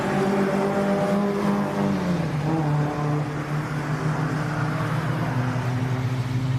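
An MG Metro Cup race car driving into the pits, its engine a loud, close, steady drone that dips in pitch as it slows, then holds at a lower, even note.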